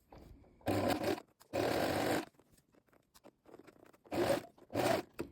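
A sewing machine stitches fabric from the outer edge toward the point in four short, fairly loud whirring runs separated by near-silent pauses.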